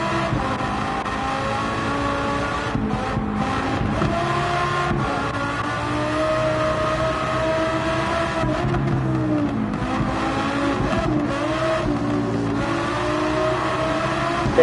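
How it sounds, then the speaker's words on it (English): Alfa Romeo race car in Gran Turismo 7 lapping the Nürburgring Nordschleife, its engine snarling loud and steady throughout, with rising and falling revs through gear changes and a faint tire squeal. "It is the Alfa Romeo. This car sounds so gnarly."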